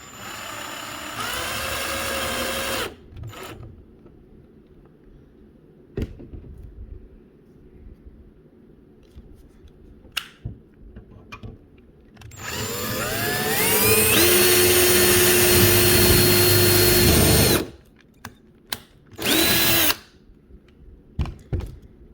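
A power drill drives screws into a tunnel bracket for an outdoor HO scale model train layout in loud whirring bursts with rising pitch, the longest running about five seconds, separated by quiet gaps and short clicks.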